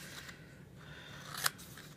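Scissors cutting up to a score line on a miniature paper treat cup, a faint close crisp snip near the end of a quiet stretch with light paper rustle and no voices.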